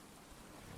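Steady rain pours in the survival video game Stranded Deep, a dense, even wash of noise around a raft at sea, faint and continuous with no voices.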